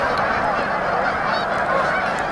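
Goose honking on snowy riverbanks littered with carcasses, the bird sick and unable to move; loud, continuous honking and bird noise fills the scene.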